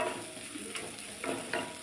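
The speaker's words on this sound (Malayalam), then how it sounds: "മസാലയുടെ പച്ച സ്മെല്ല് പോകാൻ വേണ്ടി നല്ലവണ്ണം വറുത്ത്" Spice masala of chilli powder, turmeric and rasam powder frying in a pan for Chettinad chicken curry, with a steady sizzle and a few near stirring scrapes of a spoon.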